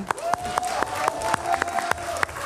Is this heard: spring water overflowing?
no